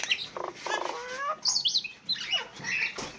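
A pet myna close by gives a quick, varied run of chirps, whistles and harsh squawks in short bursts, with no talking.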